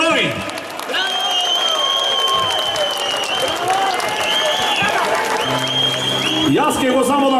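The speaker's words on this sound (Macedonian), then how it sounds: "Ве молам еден аплауз за нашите херои." An audience at an Ilinden commemoration gathering in a village applauds firefighters: dense, steady clapping fills the whole stretch, while a voice and held musical tones carry on over it.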